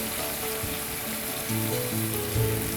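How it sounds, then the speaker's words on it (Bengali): Shrimp and courgette frying over high heat in a Bengali-style dish make a close, continuous sizzle that swells slightly louder partway through, with soft crackles and no voices. "আমি এটাকে চুলায় হাই হিটে ভাজি করব"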